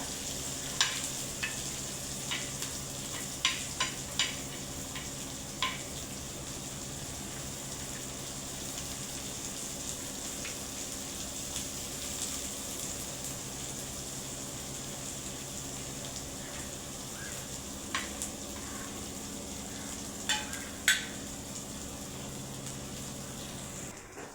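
Onion being roasted to golden brown in a pan for a summer vegetable dish: a steady, moderate sizzle with occasional sharp clicks of stirring against the pan, no talking.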